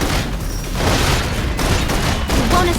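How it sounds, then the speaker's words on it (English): Dense, loud sustained gunfire in the video game Love and Deepspace, a rapid fusillade of overlapping shots and booms rolling continuously for nearly three seconds. "Requesting full suppression gunfire"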